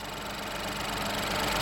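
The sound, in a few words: 2018 Ford Fiesta 1.0 litre turbo three-cylinder engine idling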